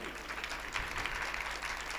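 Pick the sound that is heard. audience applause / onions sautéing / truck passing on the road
audience applause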